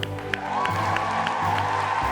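A studio audience applauds and cheers, a dense continuous clatter of clapping with a few whoops, fairly loud and close, no talking over it.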